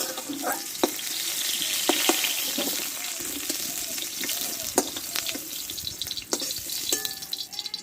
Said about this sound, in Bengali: দেখো আলু পটলগুলো ভালোভাবে কষে নিয়েছি আমি